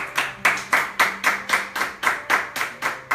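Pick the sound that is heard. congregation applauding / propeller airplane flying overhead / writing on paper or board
congregation applauding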